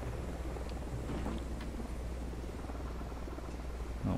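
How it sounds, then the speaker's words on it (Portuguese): Helicopter circling overhead in the video game Ghost Recon Wildlands, a steady low rotor drone that holds at even loudness for the whole stretch with no talk over it. "O helicóptero ainda tá rondando."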